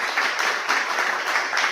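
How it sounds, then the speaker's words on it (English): An audience at a Black media summit applauds a speaker with brisk, fairly loud clapping that pulses in short waves, with no voices over it. "Can we just give another round of applause for Dr."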